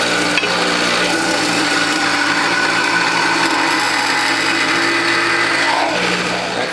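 A Whole Health Foundation juicer grinds ginger and pineapple, giving a steady, loud mechanical whir with rasping and rubbing textures that runs throughout without talk.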